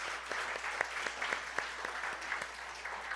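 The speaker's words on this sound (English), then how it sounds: "We'd like to just welcome you with a little applause." A church congregation gives a short, modest round of applause to welcome first-time visitors, with scattered distinct claps over soft room tone, fairly quiet and even throughout.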